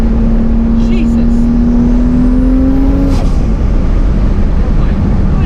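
A 1200hp turbocharged Toyota Supra roars loudly at close range, its engine note rising under hard acceleration for a few seconds before easing off the throttle amid heavy road and wind noise.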